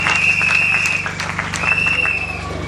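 A church congregation applauds during a Sunday service, a steady wash of clapping lasting throughout, with a sustained tone and murmuring voices underneath.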